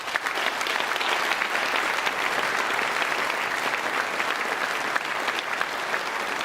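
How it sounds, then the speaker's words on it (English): Sustained audience applause at a high school National Honor Society induction ceremony, dense and steady throughout with no pauses, filling the room at an even level. "Please join me in a round of applause for these individuals."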